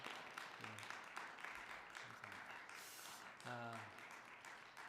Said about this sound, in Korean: 우리 박수로 한번 할까요?